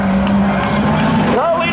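Spectator drag race cars at Seekonk Speedway roar past in a close, loud engine blare, with a sharp rising pitch sweep near the end as one car passes; an announcer talks over the racket.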